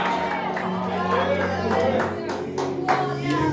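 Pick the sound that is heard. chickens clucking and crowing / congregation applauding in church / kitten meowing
congregation applauding in church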